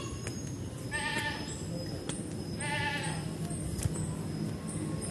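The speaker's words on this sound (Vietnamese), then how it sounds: "Con dê nó kêu." A goat bleats twice, in short wavering cries about two seconds apart, at the Dai Nam tourist area. Faint voices and outdoor background noise sit beneath it.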